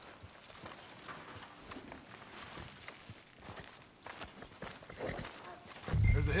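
Horse hooves clip-clopping at a steady walking pace in Red Dead Redemption 2, moderately close among town ambience, with a brief louder low thump near the end.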